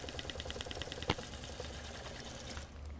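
A sewing machine runs steadily while stitching quilt binding, a fast continuous whirring with rhythmic needle ticks and one sharp knock partway through, close and fairly loud.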